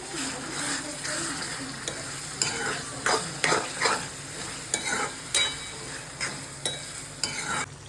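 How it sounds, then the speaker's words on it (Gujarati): Onions and tomatoes sizzle in a pan for Mysore dosa filling, a steady close fry broken by repeated scrapes and knocks of a spoon stirring. "ઓનિયન ગોલ્ડન બ્રાઉન થઈ જાય પછી આપણે ટોમેટો નાખીશું. 4 થી 5 ટોમેટો લીધેલા છે. હવે એને થોડા પાકવા દઈશું."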